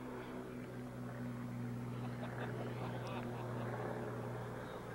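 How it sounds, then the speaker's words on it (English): A twelve-passenger Cessna airplane at a busy airport during an aerobatics competition gives a steady, moderately distant engine and propeller drone, with a low hum holding evenly throughout. "Nice airplane, made by Cessna,"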